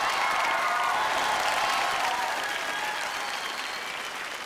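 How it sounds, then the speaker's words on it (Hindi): Loud studio audience applause with some cheering on a Bhojpuri singing competition show, a thick continuous roar of clapping that starts at full strength and slowly eases off. "जोरदार ताली हो नीलम जी के लिए"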